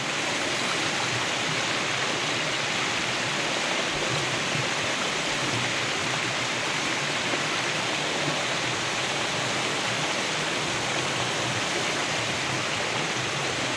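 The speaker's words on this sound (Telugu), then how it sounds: "చూడండి నాన్న నీళ్ళు చూడండి ఎంత స్పీడ్గా వస్తా ఉందా" Steady rushing canal water pours continuously into a pond, a dense full roar like a strong flow spilling into still water, close and loud with no pauses.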